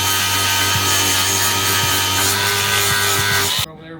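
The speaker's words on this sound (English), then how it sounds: "we got to drill this hole out" A loud, steady power drill grinds continuously with a buzzing rasp while drilling out a hole on a 1964 Impala convertible top frame, then cuts off abruptly near the end, leaving a quieter background.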